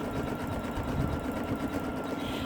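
An embroidery machine stitches an in-the-hoop mermaid tail zippered pouch, giving a steady, fast mechanical whir with a dense needle rhythm that runs loud and unbroken throughout.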